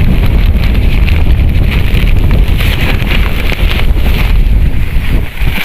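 A strong storm wind blasts across an open rice field, a loud continuous roar buffeting the microphone with gusting rumble and no pauses.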